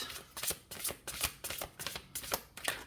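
Thick, fat oracle cards being shuffled by hand, a quiet close series of about eight crisp riffling bursts in an uneven rhythm, with no talking.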